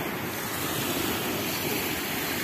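Small sea waves wash steadily onto the beach at Lazarevskoye on the Black Sea in October. The surf makes a continuous, close hiss with gusty wind buffeting the microphone and no voices.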